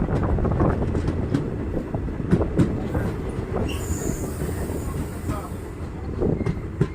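Train pulling into Kulithurai railway station on the Punalur–Nagercoil line, a steady close rumble of wheels with clattering rail joints and a high metallic wheel squeal rising partway through.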